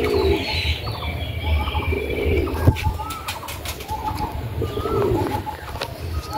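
Pigeons coo repeatedly in a loft at Ranihati, Jolakanduya, with soft overlapping calls over a steady murmur of birds and occasional faint flutters.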